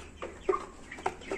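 Brahma chickens in their coop giving several soft, irregular clucks at close range over a quiet background; no talk.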